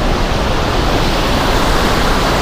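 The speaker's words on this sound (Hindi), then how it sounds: "तो देख सकते हैं कितना भयंकर बहाव आ रखा है, बिल्कुल पानी उबल रहा है।" Yamuna river water roars through fully opened dam gates on the Himachal–Uttarakhand border after heavy rain, a loud, steady, unbroken rush of churning water close by.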